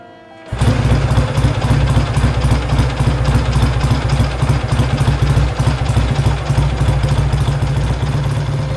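A 1954 AJS Model 20 motorcycle engine idles loudly and steadily, with a rough, thumping, clattery rhythm that continues throughout.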